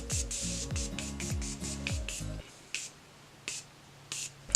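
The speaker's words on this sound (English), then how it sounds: "I'm going to be using Morphe Prep and Set Setting Spray." Music with a thumping beat plays, then stops, leaving several short, close hissing bursts of makeup setting spray spaced out a second or so apart.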